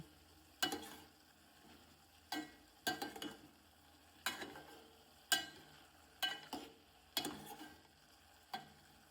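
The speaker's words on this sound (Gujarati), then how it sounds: "આપણે વઘાર કર્યા બાદ તમે જોઈ શકો કે આપણે થોડી વાર તેલમાં જ શેકાવા દેવાના છે" Spices tempering in hot oil for a brinjal and val bean curry, with a steady low sizzle broken by about eight sharp stirring scrapes at an uneven rhythm, close and alone.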